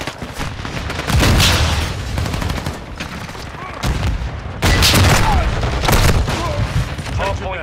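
Heavy, near automatic gunfire from Call of Duty: Modern Warfare II, loud overlapping bursts and booms in waves, with a voice talking intermittently among the shots.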